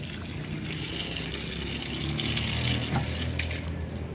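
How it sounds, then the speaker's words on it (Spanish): Water and loose scale drain out of a tube pulled from a solar water heater during removal, a steady broadband rushing and trickling that runs continuously with no speech over it. "Tiramos el agua y nos va a salir sarro."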